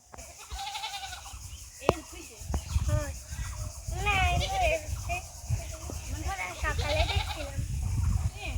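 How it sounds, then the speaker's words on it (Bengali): Several goats bleat repeatedly nearby, overlapping one another, while children chatter and play in the background. "এখানে তিনটে ছাগল আছে"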